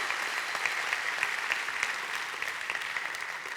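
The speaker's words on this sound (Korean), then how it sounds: "정말 지금도 일하시는 하나님께 다시 한번 영광의 박수를 올려드리겠습니다" A church congregation claps steadily during a Sunday afternoon worship service, a dense, even wash of hand clapping with no voices over it.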